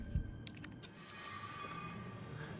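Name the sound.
first aid spray being used in Resident Evil 3 video game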